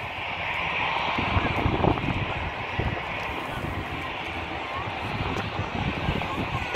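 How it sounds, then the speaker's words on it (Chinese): UNI Air ATR 72-600 turboprop airliner landing at Taipei Songshan Airport, its engine and propeller roar steady and loud throughout, with some wind noise on the microphone. "ATR-72600型螺旋桨靠近左边降落。"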